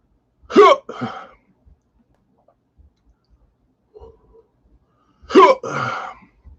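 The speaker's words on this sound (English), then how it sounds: "The hiccups come." Two sharp hiccups from a person after eating an extremely hot chip in a spicy chip challenge, close and abrupt, several seconds apart with quiet between them.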